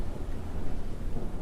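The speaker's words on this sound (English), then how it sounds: "Lightning tore through the sky over Houston as severe weather arrived, signaling a powerful storm system spreading across Texas." Low, continuous rumble of thunder from a severe storm over Houston, Texas, with rain hiss underneath; loud and steady with no distinct crack, heard alone.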